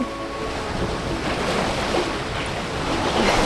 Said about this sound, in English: And what a beautiful breeze it is.